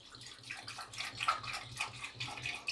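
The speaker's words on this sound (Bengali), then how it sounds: "এবার আমি এখানে 1 কাপ মতো জল দেবো।" Water being poured from a cup into a pressure cooker holding cut tomatoes, a soft steady splashing trickle with light rhythmic pulses, close and fairly quiet.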